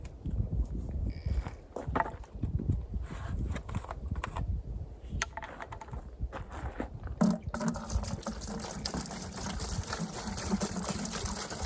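Liquid pours into a container while Bear 63 is diluted one-to-one for prepping exterior beams, a steady close trickle and splash with scattered knocks and handling noises, growing fuller and brighter near the end.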